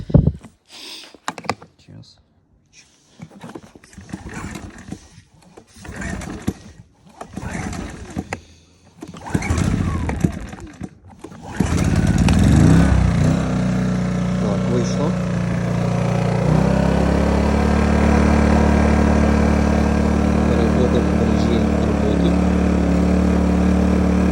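A Scheppach SG2500I 2 kW inverter generator is pull-started with the choke set after some handling noises, then catches and settles into a steady, loud, continuous engine drone that shifts slightly in pitch as it keeps running.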